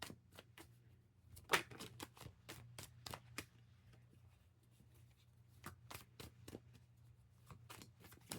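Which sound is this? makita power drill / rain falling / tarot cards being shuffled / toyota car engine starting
tarot cards being shuffled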